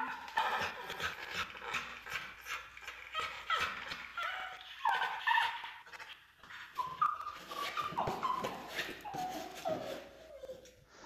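A highly anxious Pitbull-Bully mix dog whimpering and whining on its first day in a new place, with repeated high-pitched whines and yips close by, mixed with shuffling and movement.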